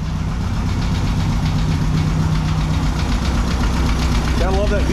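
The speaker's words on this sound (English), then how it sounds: "I love that VW rattle." A 1600cc VW dune buggy engine idles loud and close after a tune-up, a steady air-cooled chug with a metallic rattle throughout; someone speaks briefly over it.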